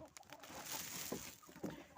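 Soft, low clucking from a few chickens, close by and quiet, with faint rustling around them.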